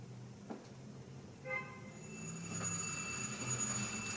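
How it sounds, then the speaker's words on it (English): An Athearn Genesis GP38-2 model locomotive with Tsunami 2 sound runs its startup sequence: faint clanks and a brief tone, then a diesel engine rumble building and settling into a low idle. "So we can hear the startup sequence."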